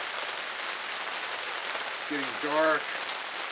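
Steady rain pattering down at an outdoor basecamp during evening cooking, a constant hiss of drops on surfaces, with a brief spoken remark near the end.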